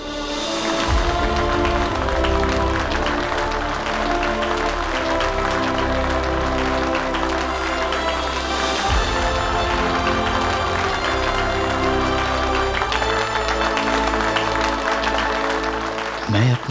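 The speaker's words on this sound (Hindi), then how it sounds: "जोरदार तालियों से स्वागत कीजिए best student of our college" An audience applauds loudly and steadily at a college awards function as the best student is welcomed to the stage, with music playing under the clapping throughout.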